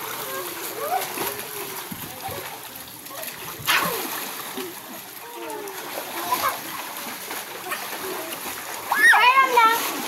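Children splashing while bathing in water, irregular splashes and sloshing close by, mixed with kids' chatter and an adult voice speaking.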